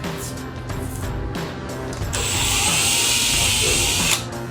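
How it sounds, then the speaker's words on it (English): A power drill with a 25/64 bit bores pilot holes for a Wickerbill spoiler add-on on a 2015-2023 Mustang GT Performance Pack, whining steadily then rising into a louder, brighter sustained grind near the end. "So now we can go through and drill all these with our pilot holes again"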